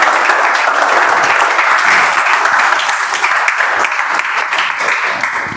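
Sustained applause from a Toastmasters meeting audience, dense and steady throughout as the crowd welcomes a speaker to the stage.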